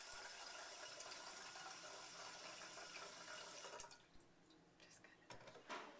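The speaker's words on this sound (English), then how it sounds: "At the sink, fill the carafe with water up to the number 2." Water runs from a sink tap into a coffee carafe as a steady, faint rushing stream that stops partway, followed by a few soft drips and light clinks.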